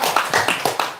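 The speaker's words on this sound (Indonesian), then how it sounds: "Tepuk tangan." Audience members clap in a few sharp, evenly spaced beats, roughly five claps in a second, close and fairly loud with no talking.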